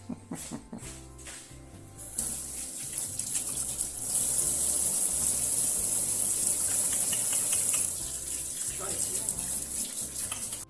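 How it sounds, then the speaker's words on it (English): Tap water runs steadily into a sink during handwashing, a continuous hissing gush that starts after a couple of seconds of clatter and carries on for most of the clip, with brief speech at the start. "Next job, I have to wash my hands."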